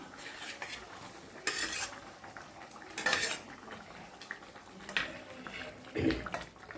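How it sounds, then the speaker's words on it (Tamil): Bitter gourd pieces being added to a coconut milk tamarind curry simmering in a pot, heard as several separate bursts of spoon scraping, clinking and stirring against the pot over a quiet background. "இப்போ நம்ம பாவக்காய் போடுறோம்"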